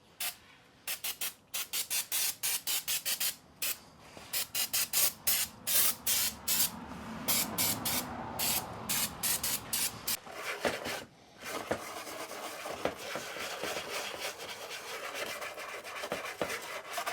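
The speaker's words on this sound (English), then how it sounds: "Little carb cleaner, took off some of the grime and gunk and whatever," Carb cleaner sprays onto a 1994 Honda XR650L motorcycle seat base in a quick series of short, sharp hissing bursts, followed by a longer stretch of continuous hissing spray and rubbing.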